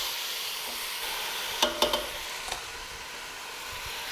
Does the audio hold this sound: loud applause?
no